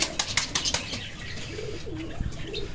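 Pigeons flying down to eat grain: a burst of close wing flapping at the start, followed by soft cooing and light rustling as the birds settle.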